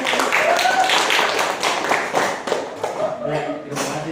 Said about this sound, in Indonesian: Boleh buka tepuk tangannya semuanya